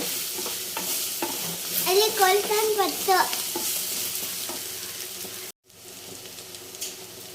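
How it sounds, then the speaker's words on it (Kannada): Onions fry in oil with turmeric in a village kitchen, a steady close sizzle broken by the scrape and clatter of stirring, then a brief drop before the sizzle resumes. "ಮಿಕ್ಸ್ ಮಾಡಿಕೊಂಡು ಎಣ್ಣೆಯಲ್ಲಿ ಇನ್ನೂ ಸ್ವಲ್ಪ ಉರಿಬೇಕಾಗುತ್ತೆ"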